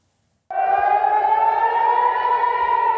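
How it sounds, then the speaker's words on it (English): An air raid siren wails steadily over Jerusalem, starting abruptly after a brief silence and then holding a loud, sustained rising tone with layered harmonics. "As you can hear, sirens are going off in Jerusalem"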